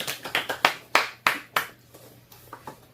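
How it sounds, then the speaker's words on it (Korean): A small class claps hands during a Korean-language English vocabulary lesson, a short burst of about eight sharp, separate claps that thin out and fade toward the end, fairly close and alone. "어이구 박수 치세요."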